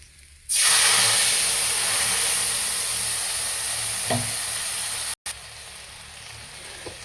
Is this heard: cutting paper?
no